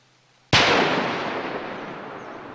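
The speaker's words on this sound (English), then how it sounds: "So we'll then crack the bomb like we did on the other bomb a few days ago." A single sharp, loud blast as a plastic charge detonates an unexploded bomb in Laos, erupting abruptly after brief quiet and trailing off in a long rumbling decay.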